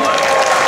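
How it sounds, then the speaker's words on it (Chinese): A short burst of clapping from an audience, brief and fairly loud. "掌声鼓励一下。"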